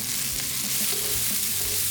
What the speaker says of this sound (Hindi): पैन में मैंने ऑयल डाल दिया है, मेरी आंच मीडियम हाई है। इसके अंदर अब मैं अपनी सब्जियां डाल दूँगी 1 बाय 1।